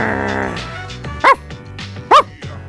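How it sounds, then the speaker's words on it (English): Stray dogs in the video game Persona 3 Portable bark in two sharp, loud yelps over soft game music, with a whimpering tone between them. "You've been suddenly surrounded by stray dogs."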